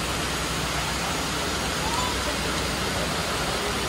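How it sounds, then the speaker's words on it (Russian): Broadband rushing water from the largest artificial waterfall in Dubai, a steady, dense roar that runs unbroken throughout with no pauses or changes. "это там самый большой искусственный водопад в мире"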